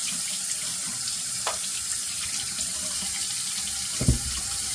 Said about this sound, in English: So let's wash the scooper off.